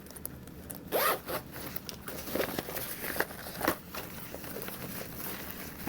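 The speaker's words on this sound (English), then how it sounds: "Zipper panel or zipper pocket open." Zipper on a leather convertible backpack's zipper pocket being pulled open, several short close ripping zips with small pauses between, alone without talk.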